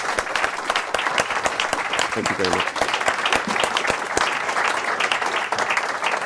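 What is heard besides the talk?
audience applause for the panelists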